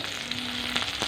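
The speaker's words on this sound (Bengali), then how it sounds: "পেঁয়াজ আর রসুনটা ভালোভাবে তেলের মধ্যে একটু লাল লাল করে ভেজে নেব" Chopped onion and garlic fry in hot oil, a dense close sizzle over a short moment with a couple of brighter spits of spattering oil.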